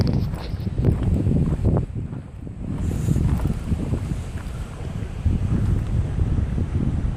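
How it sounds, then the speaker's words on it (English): Wind gusting across the microphone at a breezy campsite beside a small waterfall, with constant rushing water noise underneath, loud and close. "It's right next to this little mini fall, so it's kind of loud, and it's very breezy down here."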